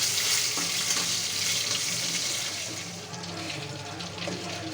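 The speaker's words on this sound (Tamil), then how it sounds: "மீன் எவ்வளோ அழகாக கொதிக்குது பாருங்கள்" A continuous, even sizzle of collar fish frying in hot oil, a dense hiss that stays steady with no talking over it.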